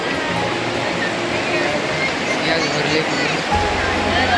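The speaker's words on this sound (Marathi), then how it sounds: "आणि ही आमची सुख नदी" Steady rushing of river water flowing nearby, a constant broad wash of sound, with voices faintly mixed in.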